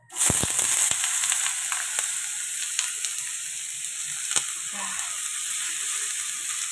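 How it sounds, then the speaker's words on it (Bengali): Potatoes fry in a hot pan with a steady, close sizzle that starts abruptly and holds throughout, with a few sharp spatters and crackles on top. "আলু ভাজা হয়ে গেল"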